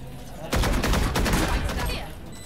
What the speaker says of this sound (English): Placing swarm grenade. Swarm grenade out.